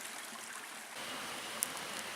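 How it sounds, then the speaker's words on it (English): A steady, gentle rush of a stream's running water beside a trail campsite carries on continuously at low level, with one tiny click partway through and no voices. "Set it up right next to the stream. I love the sound of running water."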